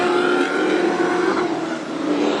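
Speedway race cars at Carina Speedway's AMCA Nationals final roar out of the last turn, a loud, continuous engine drone with steady pitch that swells slightly as the pack passes nearby.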